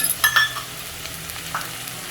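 Vegetables for veg kurma (peas, potato, beans, carrot) tipped into a frying pan, with brief stirring scrapes and a soft steady sizzle underneath, close and moderately loud, no talking.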